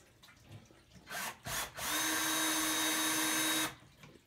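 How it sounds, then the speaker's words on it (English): A power drill with a Phillips bit driving a small wood screw into a wooden chair rung: a couple of short bursts, then a sustained whine for about two seconds before it stops, fairly close. "I'm going to take a little wood screw, drill with a Phillips bit."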